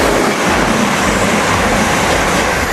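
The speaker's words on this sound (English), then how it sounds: "Every time a train goes by like that, Peter goes, ooh." A fast train rushes through a station platform, a loud, steady broadband roar with a rattling rush that fills the whole stretch.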